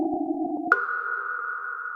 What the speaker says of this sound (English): What you're hearing is raw electromagnetic radiation data